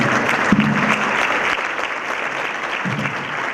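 An audience applauds steadily for the panelists at a Mexican steel industry panel, a dense wash of clapping with brief voice traces near the start and end.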